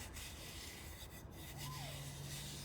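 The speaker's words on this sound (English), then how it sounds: "I'm just kind of burnishing the wall with my trowel, and that burnishing motion smooths it out" A trowel rubs and burnishes the wall of a carved sand castle tower, a steady gritty scraping that runs the whole time at close range, with a faint rising and falling tone partway through.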